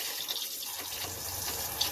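Hot water runs steadily from a shower faucet while an RV's plumbing is winterized with pink antifreeze, giving a continuous close hiss of flowing liquid with no talk.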